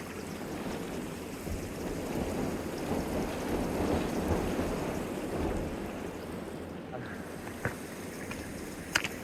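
Waterfall rushing near Easedale Tarn, a loud, steady broadband roar of falling water that holds close and continuous throughout, with a few faint sharp knocks near the end.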